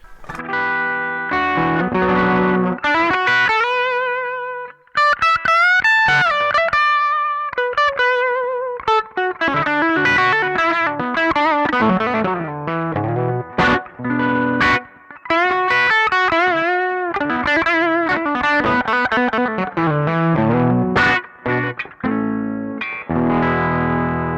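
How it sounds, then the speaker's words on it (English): Electric guitar with humbucker pickups played through an amp, loud and continuous, with gritty natural breakup across quick melodic runs and sustained notes. "this is the sound of the humbucker pickups"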